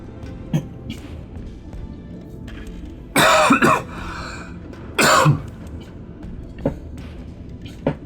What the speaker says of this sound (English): now that cough is gone